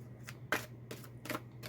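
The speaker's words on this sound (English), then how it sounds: "I'm going to keep shuffling until you give me a card." Deck of cards being shuffled by hand, four or five short papery riffles in an uneven rhythm, close and fairly quiet over a low steady hum.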